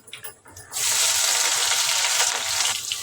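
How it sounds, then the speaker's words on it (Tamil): Small shallots and garlic hit hot oil in a pan for a fish curry, a faint sound that suddenly bursts into a loud, steady sizzle and crackle that carries on to the end. "வெங்காயம் பூண்டு நல்லா வதங்கி வரைக்கும் வதக்கி வச்சுக்கலாம்"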